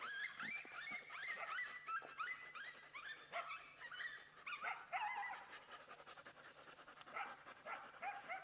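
Hunting dogs close to a coyote in West Texas, a rapid run of high whimpers, yips and panting repeating for several seconds, fairly near and continuous.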